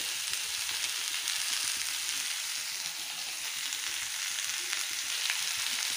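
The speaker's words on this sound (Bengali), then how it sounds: "এবার চাল কুমড়োগুলো সবগুলো একসঙ্গে সাঁতরিয়ে নেব" Ash gourd pieces with nigella seeds sauté in a hot pan, giving a loud, continuous close-up sizzle that holds steady throughout with only faint stirring and no voices.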